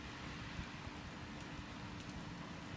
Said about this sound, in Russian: такой дождь сильный. Слышите, как шумит?